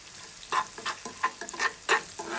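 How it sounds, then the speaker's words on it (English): Finely chopped onion sautéing in a pan with salt, with soft sizzling and a few stirring scrapes of a spoon coming in irregular bursts, close and fairly quiet, no talking. "and saute for 5 minutes until it's golden brown"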